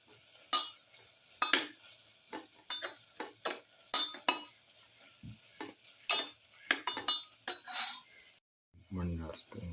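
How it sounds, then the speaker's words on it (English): Chicken with pepper, ginger, garlic and curry leaves being stirred in a pan, with repeated scraping clinks of a spoon against the metal over a faint sizzle, ending in a short low clatter. "Mix thoroughly."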